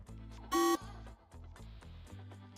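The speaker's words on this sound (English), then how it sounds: "You hear the beep?" A single short, loud electronic beep rises above a quiet, steady background hum.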